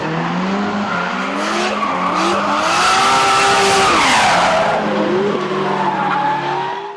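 A Nissan Cefiro A31 drifts with loud, sustained tire squeal and skidding over a roaring engine, pitch sweeping up and down continuously and close by throughout.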